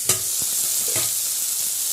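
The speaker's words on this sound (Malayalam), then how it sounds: "തിളക്കുന്നുണ്ട് തിളക്കുന്നുണ്ട്" Chicken curry bubbling in a small clay pot, a steady bright hiss of simmering throughout with a couple of soft stirring knocks near the start; no voices.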